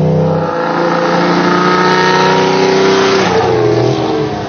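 A 1950s Mercedes Gullwing sports car engine drives at speed, its loud, sustained mid-pitched drone holding steady and then climbing slightly as the car accelerates, close and dominant throughout.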